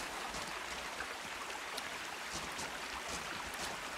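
A video game waterfall gives off a dense, steady rush of water, broadband and unbroken, holding an even loudness from start to finish.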